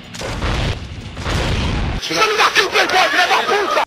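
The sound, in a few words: rocket launcher explosions in the Fallout video game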